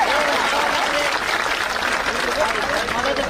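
A crowd at a protest gathering applauds loudly and steadily, dense clapping filling the whole stretch with a few voices faintly mixed in.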